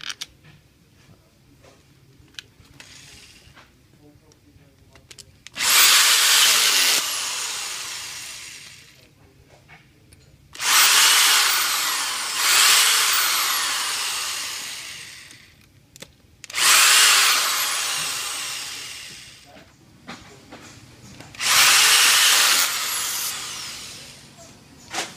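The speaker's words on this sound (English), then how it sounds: "if you have an electric or pneumatic tool, then secure it anywhere from 25 to 32 inch-pounds" An electric or pneumatic power tool tightens the pump head screws on a DDP 550 PumpOut pump, sounding as four loud, close whirring bursts of about five seconds each, separated by quiet pauses.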